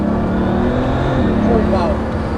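A Bugatti Veyron pulling hard in top speed mode, a loud continuous engine roar and rising rush close by, with excited voices over it.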